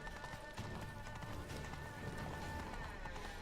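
Rhythmic hoofbeats of a galloping horse in The Witcher 3: Blood and Wine, quick and steady, over a droning background of game music and ambience.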